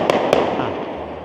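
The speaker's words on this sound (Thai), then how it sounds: "จุดพลุ" Fireworks go off in Tianducheng, the replica Paris town in China: two quick sharp bangs in close succession, followed by a long rumbling echo that fades out.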